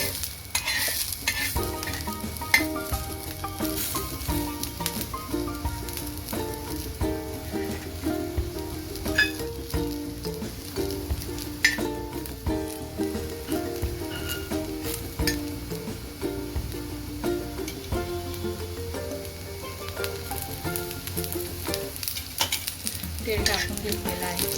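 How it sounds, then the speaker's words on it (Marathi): Grated coconut roasting in oil in a pan for Dabhukdya chi bhagi, stirred steadily, giving a continuous close sizzle with repeated scraping strokes and light clinks for about twenty-five seconds, no talking. "याच्यामध्येच आपण खोबरं भाजणार आहोत"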